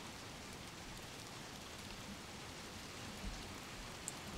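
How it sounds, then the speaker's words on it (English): Rain falls steadily and quietly in Little Nightmares 2, an even patter of drops on surfaces that stays soft and continuous throughout, with no talking. "It's raining. How sad."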